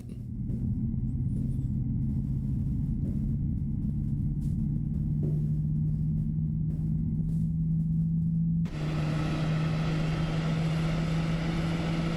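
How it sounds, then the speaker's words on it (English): PMDG 777 airliner engine spooling up during startup in MSFS 2024, a steady low drone with a rising tone that swells abruptly into a louder, broadband jet roar partway through, continuous with no talk. "Engine starting up."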